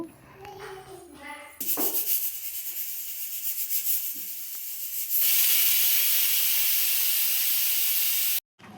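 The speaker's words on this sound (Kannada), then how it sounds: "ಇಲ್ಲಿ ವಿಸಿಲ್ ಬರ್ತಿದೆ, 2 ವಿಸಿಲ್ ಹಾಕ್ಸ್ಕೋಬೇಕಷ್ಟೇ" Pressure cooker cooking black-eyed peas (alasande) in a home kitchen gives off a loud, steady hiss of releasing steam that builds after about five seconds and cuts off abruptly near the end, with softer kitchen clatter before it.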